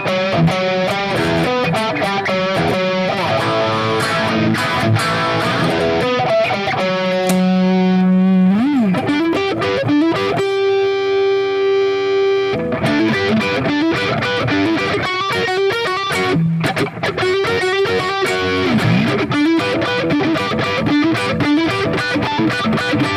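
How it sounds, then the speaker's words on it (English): Electric guitar played loosely through a Fractal FM9 with delay and moderate distortion, chords and single notes ringing with echoing repeats, no voices. "it's got a little bit of a delay, a little less distortion"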